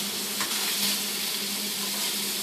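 Hamburger meat frying in a pan gives a steady, close, even sizzle throughout, with a faint clink near the start.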